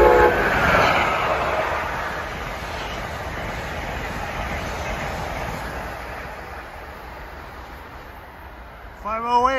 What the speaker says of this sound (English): Love those Westinghouse horns.